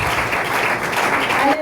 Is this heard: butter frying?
no